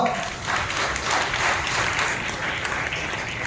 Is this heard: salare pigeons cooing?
no